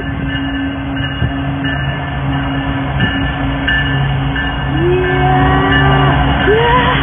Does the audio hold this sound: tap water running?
no